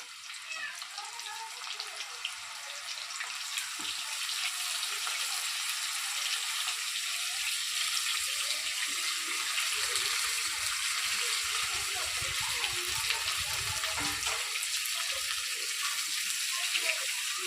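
Drained cauliflower florets fry in hot oil, making a steady, fairly soft hiss that holds evenly for the whole stretch with no talking.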